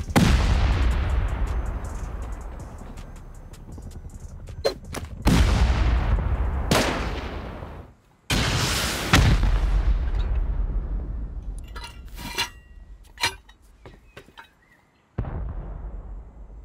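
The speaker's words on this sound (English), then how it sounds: "I'm gonna have to start using C4 here" Repeated C4 charges detonating while raiding a sprawling zerg base in a survival video game: a string of heavy, booming blasts with long rumbling tails, separated by brief gaps, loud and close, followed by quicker sharp pops near the end.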